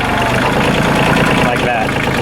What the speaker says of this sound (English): It'll just sit there and chug like it is now.